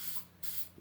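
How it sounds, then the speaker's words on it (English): Two close bursts of an aerosol can spraying clear paint sealer onto a custom coffee cup, each a loud steady hiss with a brief pause between them. "Just spray a coat or two on it and let it sit till tomorrow"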